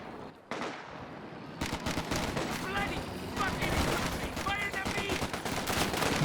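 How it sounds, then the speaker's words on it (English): A missile carrier in Company of Heroes 2 fires from range as rapid rattling volleys and crackling bursts pile up over a rumbling battlefield, with a commentator talking over much of it. "Missile carrier peppering away here from range."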